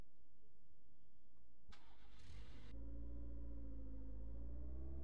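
Car engine cranking over briefly, then catching and settling into a low steady running rumble in the game Contraband Police.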